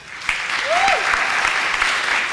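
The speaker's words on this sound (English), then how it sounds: "An applause for Pilar." An audience claps for a dancer at a Guild Hall fiesta, continuous close-packed applause with a brief whistle rising and falling early on, a voice faintly mixed in.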